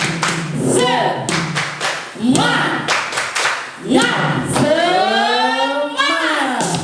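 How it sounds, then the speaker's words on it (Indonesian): Children at a church Sunday school stand and do a rhythmic cheer clap, with sharp claps in quick patterned bursts mixed with young voices chanting and a drawn-out sung call near the end. "Kita bikin tepuk semangat ya."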